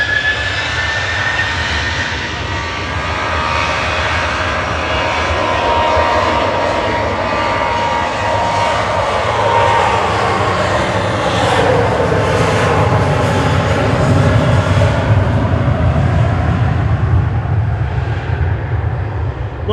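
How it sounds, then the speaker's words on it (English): EasyJet Airbus A320neo jet airliner landing at Manchester Airport, a loud, steady roar of engine noise that swells and shifts in pitch as it passes, filling the whole stretch without any voices. "EasyJet landing from Paris Orly there, A320 GUZLX."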